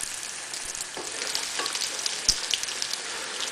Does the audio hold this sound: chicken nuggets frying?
yes